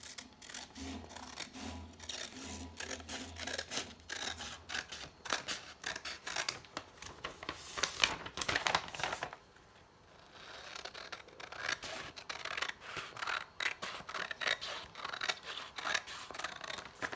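Scissors snip steadily through paper being trimmed to size for a handmade journal, producing a long run of close, crisp cuts and rustling with a short lull midway, and no talk.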